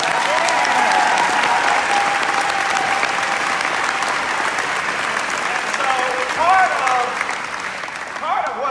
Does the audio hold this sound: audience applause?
yes